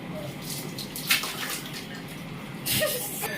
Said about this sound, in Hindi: पानी लो हेयर में डालो